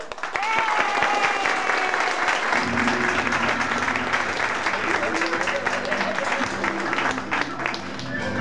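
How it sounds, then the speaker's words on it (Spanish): Audience applause for a female singer at an evening show in Medellín, a dense, steady wash of clapping that fills the whole stretch, with some cheering and voices mixed into the crowd noise. "A todos ustedes pido que den un fuerte aplauso para la intérprete que nos está acompañando esta noche"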